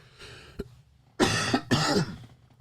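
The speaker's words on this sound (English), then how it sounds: "Coughing again." Close, harsh coughing: a short catch, then two loud bursts of coughs in quick succession.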